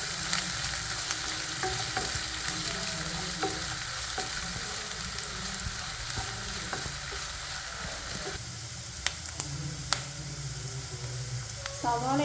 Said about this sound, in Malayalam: ഇനി നമുക്ക് സവാള ഇട്ട് കൊടുക്കാം. ഇനി നല്ല രീതിക്കൊന്ന് വഴറ്റി കൊടുക്കണേ.